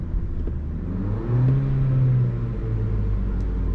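A 2022 Alfa Romeo Tonale 1.5-liter four-cylinder mild hybrid engine is revved once, rising from a low idle to a smooth whirring peak and settling back to a steady hum. The sound is close and clear.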